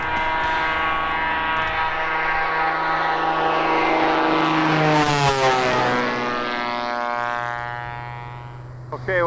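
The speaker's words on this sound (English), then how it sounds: "What we've got here is the 1981 Cessna 185." Inside a 1981 Cessna 185 propeller airplane in flight, a loud, steady engine drone with layered prop harmonics fills the cabin, swelling briefly midway before easing down slightly toward the end.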